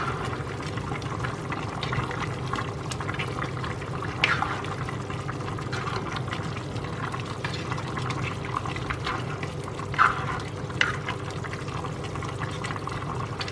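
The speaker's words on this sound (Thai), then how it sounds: "ต้มให้มันเปื่อยๆกับไก่" Chicken simmering uncovered in a pot for Thai om, a steady bubbling, hissing boil that runs throughout, with a couple of brief clinks standing out.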